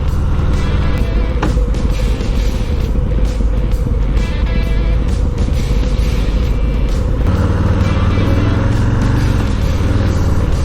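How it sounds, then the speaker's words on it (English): A 2020 Harley-Davidson Low Rider S with its 114 engine running on a demo test ride, a loud, steady low rumble mixed with wind roar throughout. "This engine just wants to get up and absolutely go right off the bat."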